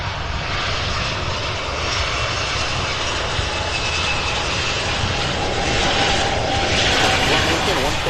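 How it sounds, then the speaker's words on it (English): A Boeing 757 jet airliner from Chicago lands at night at Louisville's SDF airport, its loud, steady engine roar filling the whole stretch and swelling slightly near the end. "Beautiful landing here out of Chicago, a 757."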